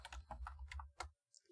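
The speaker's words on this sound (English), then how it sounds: "Keyboard." A computer keyboard clatters with quick, uneven keystrokes close up and fairly quiet, then stops briefly before a couple more taps.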